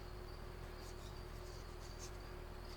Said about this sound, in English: especially around areas where I feel like there's more crickets